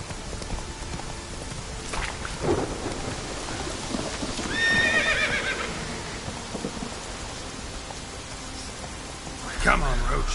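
Roach the horse in The Witcher 3 gallops with clip-clopping hooves and gives a whinny midway, set against a steady rain-and-thunder ambience, with a brief voice near the end.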